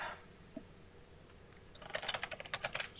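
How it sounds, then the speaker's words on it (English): Someone types on a computer keyboard, the keys starting faintly and then turning into a quick, close run of clicks and taps near the end, with no talking over them. "let me just type it into the chat"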